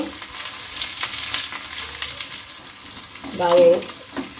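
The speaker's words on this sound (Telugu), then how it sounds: "బాగా వేగినాక పప్పులాకి వేసుకుందాం." Onions, cumin, dried chillies and curry leaves fry in hot oil, giving a continuous crackling sizzle, along with stirring scrapes and a brief louder burst near the end. No voices are heard.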